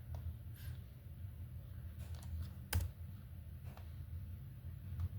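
Router configuration commands are typed on a computer keyboard as a faint, scattered run of soft key clicks over a steady low hum, with one sharper click near the middle and no talking.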